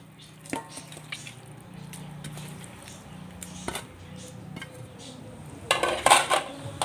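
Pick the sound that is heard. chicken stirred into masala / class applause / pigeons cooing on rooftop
chicken stirred into masala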